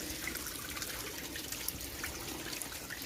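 Water trickles and splashes steadily at close range as household water is changed, forming an even, continuous flow with small drips and no speech.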